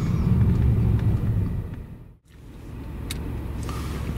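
Mercedes-Benz CLS 63 S AMG, 577 hp, launching from a race start in automatic mode: loud engine roar that drops off abruptly mid-way, then builds again as the car pulls away.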